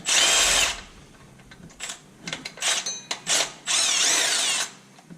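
A stubby impact wrench zips in several short bursts, rattling as it backs out water pump bolts on a 2016 Chevy Express 2500. The bursts are close and loud, separated by brief quiet gaps.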